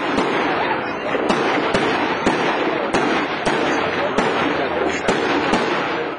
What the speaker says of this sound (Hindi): रंगारंग इफ्तिताई तकरीब के मौके पर आतिशबाजी का शानदार मुजाहरा।